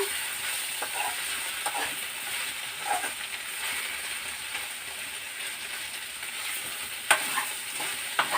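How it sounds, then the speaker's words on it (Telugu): Grated coconut frying on high heat in a pan on the stove, a steady soft sizzle with occasional scraping stirs and a sharp clink near the end, no talk. "ఇలా హైలోనే పెట్టి మనం వేయించుకోవడం వల్ల క్రిస్పీగా వస్తుంది అన్నమాట"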